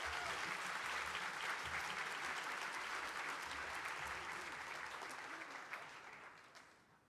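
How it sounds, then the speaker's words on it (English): Awards banquet audience applauding new editors, dense steady clapping that gradually thins and fades near the end, with a few last claps trailing off. "Let's give them all a round of applause."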